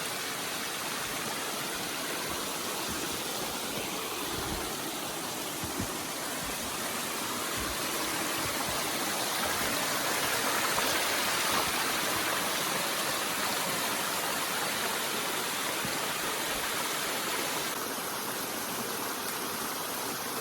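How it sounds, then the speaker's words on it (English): Water rushes continuously over rocks in a mountain stream on Mount Bigelow, Maine, a steady broadband splashing and gurgling that stays close and constant without pause. "there's another stream of water"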